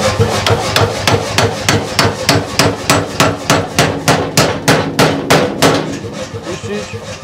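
A hammer strikes hot metal at a forge in a fast, steady series of about twenty loud, close ringing blows, the rhythm slowing slightly near the end.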